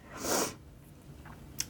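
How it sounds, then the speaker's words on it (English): A single sharp sneeze from a person having their eyebrows threaded, close and fairly loud, followed by quiet breathing and a faint sniff near the end. "I guess because I'm going slow, I'm like sneezing up a storm"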